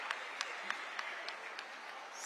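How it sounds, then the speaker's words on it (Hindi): Light applause from an audience at a government scheme award ceremony, a thin wash of clapping with a few sharper claps standing out, fairly faint and brief. "तालियां बजती रहें तो"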